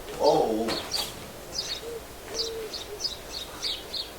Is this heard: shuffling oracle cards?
no